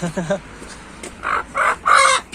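A rooster clucks and crows in a few short, loud bursts close by, with a faint voice at the start.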